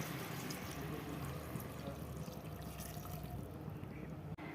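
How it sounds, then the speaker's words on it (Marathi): A pot of water is poured into a pressure cooker holding dal and spinach for aloo palak bhaji, giving a steady, fairly quiet splashing rush that runs without a break. "आता हा एक गडवा पाणी याच्यामध्ये टाकून देऊ"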